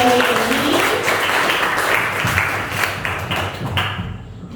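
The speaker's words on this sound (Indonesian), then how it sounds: "Tepuk tangan untuk jawaban dari ini." Audience applause during a teaching performance assessment session, steady dense clapping from a room of people lasting several seconds before tapering off near the end.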